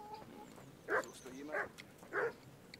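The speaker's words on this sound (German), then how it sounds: "Und ein Hund." Dog in the Kingdom Come: Deliverance video game gives three short, moderately loud barks at an even rhythm over a faint in-game ambient background.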